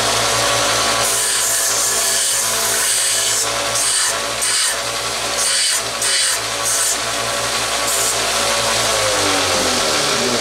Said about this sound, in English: Now I got a tool next to it, a 1-inch belt sander